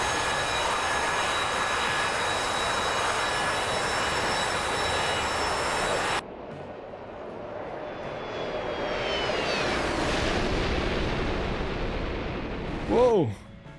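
A-4 Skyhawk jet in the DCS World flight sim, a steady roaring engine drone that abruptly shifts to a different cockpit whine with sweeping tones and a short warbling alert near the end, loud throughout.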